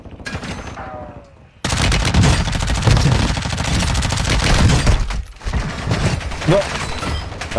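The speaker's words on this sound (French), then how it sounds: "Le mec il me tire à travers le grillage." Rapid automatic gunfire and bursts of shooting from an online first-person shooter video game play loudly and almost continuously, with one brief lull near the start and another late in the clip, while players chatter underneath.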